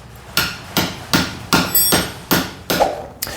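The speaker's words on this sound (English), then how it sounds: "I'm just going to tap it home with this. This is a 1-inch socket" A hammer taps a 1-inch socket to drive a countershaft seal into the engine case of a Honda CRF450X, eight sharp, evenly spaced metallic knocks, close and loud, with no talking.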